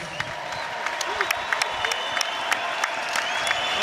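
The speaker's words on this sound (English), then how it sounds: "let's get a nice round of applause out here, please, for both of these fighters" A boxing crowd at the O2 Arena applauds the fighters after twelve rounds, a faint, distant wash of crowd noise carrying scattered sharp claps at an even, low level.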